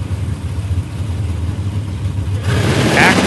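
Factory stock Camaro drag race cars on the starting line roar with loud, close engine noise that swells into a harder revving surge near the end.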